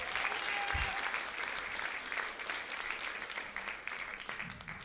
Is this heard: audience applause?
yes